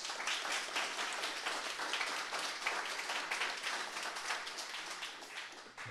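Audience applause following a lightning talk, steady dense clapping from a crowd heard at a distance, fairly faint and sustained throughout.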